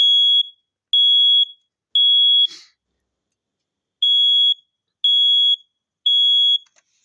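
BRK 670 MBX smoke alarm, a 120 volt unit, under test gives six loud, piercing beeps in two groups of three, each about half a second long, separated by a short pause with a faint clatter.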